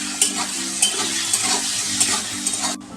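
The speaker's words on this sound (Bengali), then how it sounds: "হলুদ পরিমাণ মতো নুন দিয়ে দিয়েছি, আর পরিমাণ মতন হলুদ দিয়ে দিয়েছি, দিয়ে এটা আমি ভালো করে ভেজে নেব।" Diced potatoes seasoned with salt and turmeric fry in a pan, a steady close sizzle broken by the periodic scrape and clatter of stirring, with no voices.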